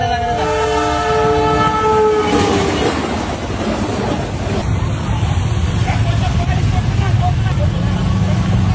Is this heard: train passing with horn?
yes